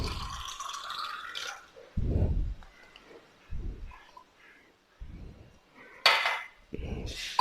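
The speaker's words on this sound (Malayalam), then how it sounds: "ഇത് നമുക്ക് സെർവിങ് ഗ്ലാസ്സിലോട്ട് മാറ്റാം." Homemade aloe vera juice is poured from a jug into a serving glass, giving several separate bursts of liquid splashing and glass clinking, each a second or so long and separated by short pauses, close up with no talk.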